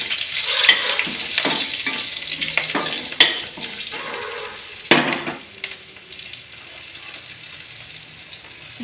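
Dried chillies, bay leaves and green chillies fry in oil in a pan, a steady close sizzle broken by scraping stirs and a few sharper clinks of a utensil.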